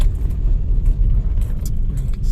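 A car driving with its windows down through a hillside village, giving a loud, continuous low road rumble with wind buffeting and no talking.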